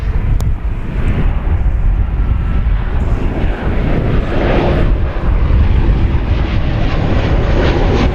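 An American Airlines jet arriving from Puerto Vallarta, Mexico roars past at an airport, a loud broad engine rumble that swells and holds steady throughout, with no voices over it.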